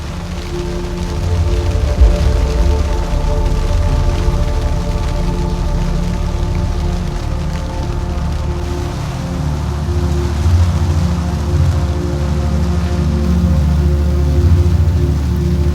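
Heavy thunderstorm rain pouring onto the deck of a sailing boat off Ibiza in the Mediterranean: a loud, continuous hiss of drumming rain with a deep rumbling undertone, steady throughout and without voices.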